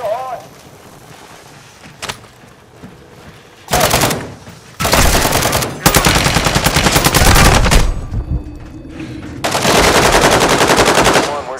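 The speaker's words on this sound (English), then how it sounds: "You are taking effective fire." Bursts of machine gun fire in Call of Duty: Modern Warfare II, several loud sustained volleys separated by quieter gaps, with a brief sharp shot early on and game sounds between.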